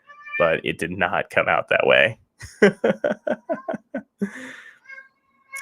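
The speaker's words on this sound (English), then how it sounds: "Don't know why this cat is such a talker" A talkative pet cat meows repeatedly in quick succession, close and clear, with a person speaking and chuckling between the calls.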